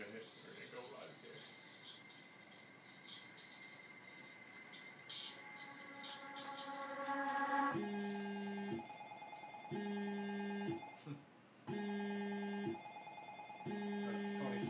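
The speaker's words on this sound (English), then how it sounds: "That's Tony's phone, by the way." A phone rings in a repeating electronic ringtone pattern, looping steadily for several seconds after some earlier music and background noise, fairly loud and close.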